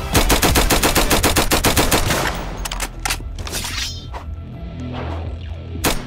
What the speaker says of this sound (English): I'm going to test the rifle.